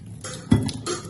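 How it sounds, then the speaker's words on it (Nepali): A young girl washing her own plates and spoons, with a few soft clinks and clatters of metal dishware. One sharper knock sounds in the middle of the short stretch, over faint background noise. "आजकल आफ्नो खाएको थालहरू चाहिँ आफै धुँदैछ नि मम्मा स्पुनहरू"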